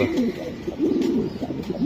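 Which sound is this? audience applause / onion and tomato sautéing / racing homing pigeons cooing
racing homing pigeons cooing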